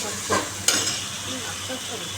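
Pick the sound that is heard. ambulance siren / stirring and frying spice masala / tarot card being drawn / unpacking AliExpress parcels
stirring and frying spice masala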